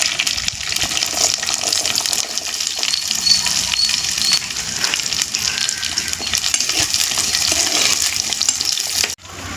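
Shallots, cumin and curry leaves fry in hot oil, giving a loud, steady, hissing sizzle up close that runs without a break and cuts off abruptly near the end.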